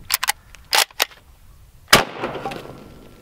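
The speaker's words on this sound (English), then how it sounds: "Okay, we'll shoot some cinder block now," A real-life Kar98 bolt-action rifle fires at cinder blocks outdoors: several sharp, loud cracks in quick bursts, then one heavier report trailing into a rolling echo and debris settling.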